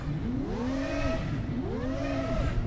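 Motorbike engine in a trick-riding video game revving hard as the throttle is punched, two rising-and-falling whines in quick succession, loud and close with no talk.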